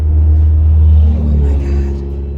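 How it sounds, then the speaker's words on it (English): Cars pass by on a road near a parked van, producing a loud, low rumbling drone that swells and then eases off, heard close up and steady throughout, with no talk. "you can't really hear me in the van because I'm near the road and cars are just whizzing by"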